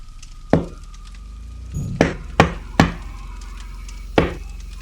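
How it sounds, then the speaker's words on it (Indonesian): Someone raps on the always-locked storeroom door of a grandmother's house at night: a few hard, separate knocks at uneven intervals, with a short cluster in the middle, heard clearly against a quiet background. "suara ketukan pintu."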